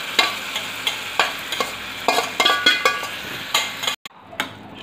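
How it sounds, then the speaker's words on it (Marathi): Soaked tuar dal being stirred in a hot pan, with a continuous sizzle and rhythmic scraping strokes of the spoon roughly twice a second, close and loud, ending in a brief pause and a few last strokes. "भिजवलेली डाळ घालून चांगलं मिक्स करून घ्या"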